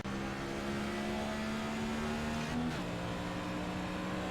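Race car engines drone together at the green flag at Talladega in iRacing, a dense, steady pack roar with sustained pitch tones that dip and shift briefly midway, loud and continuous throughout.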